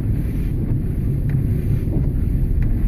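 Wind from the 2015 blizzard batters a car driving through Portland, Maine's Old Port, making a steady, loud, low rumble of buffeting gusts with no pauses.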